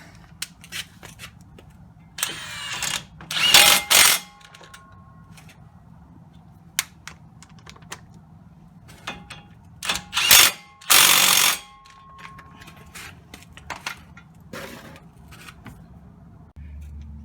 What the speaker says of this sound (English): Time for the impact.